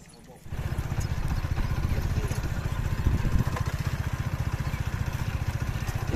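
A motorcycle engine starts up and runs steadily nearby with a low pulsing rhythm, as the bike is brought out early on an Eid morning.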